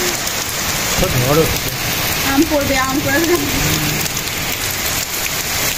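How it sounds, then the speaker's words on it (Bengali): Heavy rain pours steadily outside, a dense loud hiss of drops on surfaces; someone talks over it briefly. "দেখো সেরকম বৃষ্টি হচ্ছে আমাদের এখানে"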